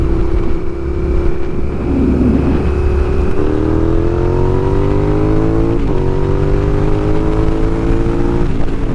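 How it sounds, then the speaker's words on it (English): A car engine revs hard and accelerates, its pitch climbing steadily through the gears with a brief shift, loud and close, with no voices on top. "I guess the car wants to fucking race."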